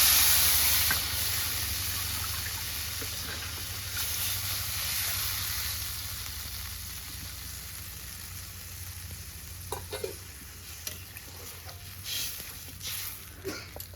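Water poured into a pan of potato and dhela fish curry hisses and sizzles loudly at first, then settles into a softer steady simmer with a few light scrapes and taps of stirring toward the end.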